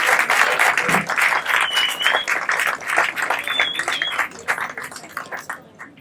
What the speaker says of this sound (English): So big round of applause for the whole crew at Captiva Cruises.